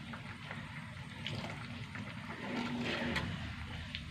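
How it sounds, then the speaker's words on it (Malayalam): Water pours into a pot of home-style Kerala curry with ground coconut paste added, a steady close splashing gush that swells midway and runs continuously for a few seconds with no talking. "കുറച്ചും കൂടി ചാറ് കഴിഞ്ഞിട്ട് വെള്ളം ഒഴിച്ചിട്ട്"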